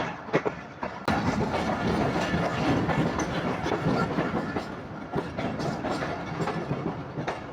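A Tezgam Express train rolls steadily along the rails with a dense, continuous rumble and rhythmic clicking of wheels over track joints, heard from close by.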